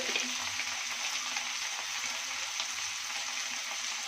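Tomato and salt sizzle in a hot pan as they are stirred together, giving a steady, even frying hiss that stays constant throughout, with no talking.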